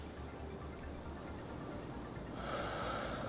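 In an accident simulator video game, an injured man's heavy, raspy breathing with snorting rhythm fills a steady noisy background, growing slightly louder and hissier toward the end.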